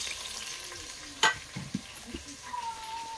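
Onion, tomato and green chilli frying in a pan for a quick village-style biryani, a soft sizzle broken by a sharp clank and a few scraping stirs of a spoon.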